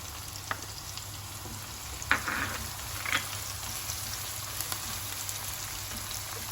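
Onion sizzles in a pan with ginger garlic paste while cooking a prawn sambal, a constant crackling fry with a couple of brief louder bursts, close and without speech.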